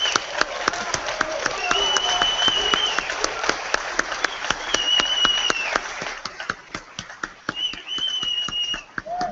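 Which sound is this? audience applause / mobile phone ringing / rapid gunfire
audience applause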